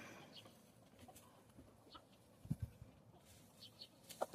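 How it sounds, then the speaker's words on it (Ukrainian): Quiet farmyard with a few soft, scattered clucks from Leghorn chickens and occasional light scratching and rustling in hay nearby. "І кури розпорпують, мені допомагають."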